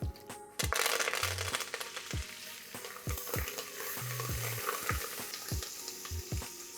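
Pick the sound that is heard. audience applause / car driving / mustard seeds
mustard seeds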